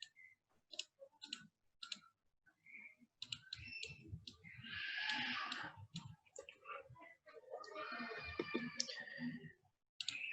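Computer mouse clicks while working in PSIM software, several sharp, close single and double clicks scattered among someone speaking.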